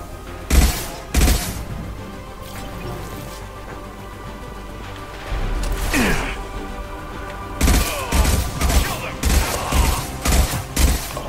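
Gunfire in the video game Mass Effect 2: loud, sharp bursts of shots in quick clusters, a pair early on, then a rapid volley near the end, over a steady background rumble.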